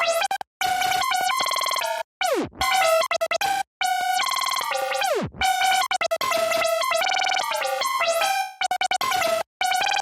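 Glitchy lead synth with overdrive, EQ and a dBlue Glitch stutter plugin in an FL Studio beat for Osamason, bright buzzy notes chopped by abrupt cuts and pitch-diving sweeps, loud and continuous for ten seconds.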